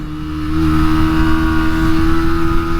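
Yamaha R125 motorcycle accelerating hard on a kart circuit, its engine holding a loud, steady high-pitched drone as it pulls through quick-shifter upshifts, close and continuous with no talk.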